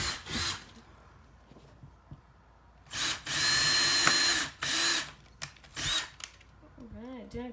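A power drill bores out a KT lock, whirring in several short bursts of varying length separated by pauses, close and fairly loud, with a brief voice near the end.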